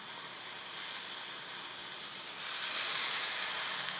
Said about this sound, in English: hold this up on its edge and make sure I sear all the sides.